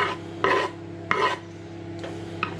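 Cheese rasped against a grater in a home kitchen, three or four short scraping strokes in an uneven rhythm, close and fairly loud over a faint steady hum.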